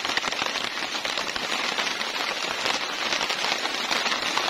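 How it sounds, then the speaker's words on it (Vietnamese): Heavy rain pounds a tent set up in a garden, a loud, dense, unbroken patter of drops hitting the fabric up close, with no talking. "chú anh chị thấy mưa không?"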